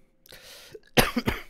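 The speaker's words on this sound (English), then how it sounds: "Just coughing directly into the mic." A single sharp cough lands right on a podcast microphone, close and loud. A brief throaty sound comes just before it.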